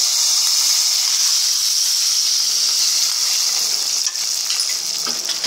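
Curry leaves and dried chillies sautéing in hot oil for a sambar tempering, giving a steady, loud, broadband sizzle and hiss that holds evenly throughout with no voices.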